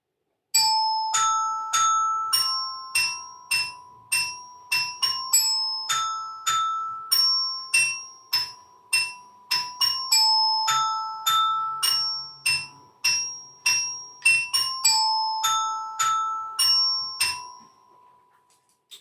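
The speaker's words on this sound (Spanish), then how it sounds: "Si eso yo lo traspaso al metalófono suena así." A metallophone plays a bright, ringing melody of struck notes in steady rhythm, each tone clear and sustained, with no voices.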